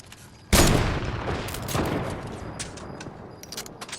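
Rapid bursts of gunfire from a mythic SCAR assault rifle in a Fortnite squad match, a loud opening blast followed by a quick rattling volley of shots that trails off into scattered fainter reports.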